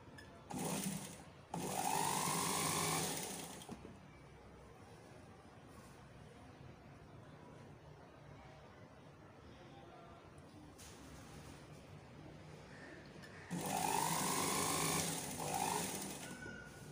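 A sewing machine stitches an airline-style open frock in two loud bursts, one near the start and another near the end, with a quieter stretch of low noise between them.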